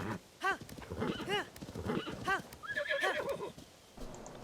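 A horse in Zelda: Tears of the Kingdom whinnies repeatedly in high, wavering calls over a steady clip-clop of hooves, close and fairly loud.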